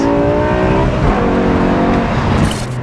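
Loud, steady engine drone of a BMW E60 M5 V10 close by, its pitch rising slightly through acceleration, with no talking.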